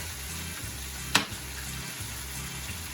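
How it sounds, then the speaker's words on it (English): Saltfish with cabbage, scallion and thyme seasoning fries in a pot with a faint steady sizzle, broken once by a brief sharp clink partway through. "So you allow this saltfish and the seasoning to fry"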